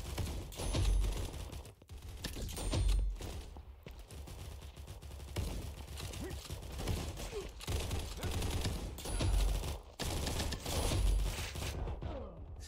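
Gunfire in the online shooter Combat Master crackles in repeated bursts and volleys, mixed with mechanical clicks and game effects, fairly loud and continuous across the span.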